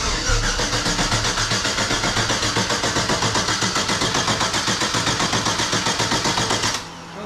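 The engine of an LS-swapped Mitsubishi Starion cranks for the first time with a loud, close, rapid rhythmic churning that runs for several seconds, then cuts off abruptly.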